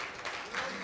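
Audience applause at an American Thanksgiving/Christmas turkey dinner gathering, a brief dense burst of many hands clapping at moderate distance.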